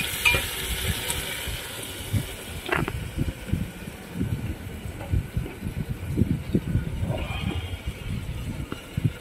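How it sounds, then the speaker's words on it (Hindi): Salted tomatoes frying in a pan for biryani while being stirred, giving a steady close sizzle with scraping spoon strokes and soft clatter throughout, with no voices. "और टमाटर के ऊपर हम इसको अच्छे से चलाएंगे और ऊपर से इसमें हम डालेंगे स्वाद अनुसार नमक।"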